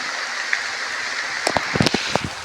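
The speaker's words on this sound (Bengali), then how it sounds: "তো বৃষ্টি পড়ছে গাইস" Rain falls steadily outdoors beside a dung-water tub used for seedlings, a continuous hiss broken by several sharp, close drips and taps near the end.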